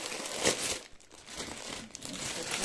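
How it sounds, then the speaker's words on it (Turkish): Close crinkling and rustling of plastic bags being pulled open to unwrap Lefkara-embroidered bags, with irregular crackly bursts throughout. "Hemen poşetlerinden çıkartıyorum."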